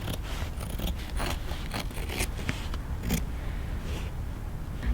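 Mesh fabric being trimmed on a corset body, with several close snips and soft scraping over a steady low rumble.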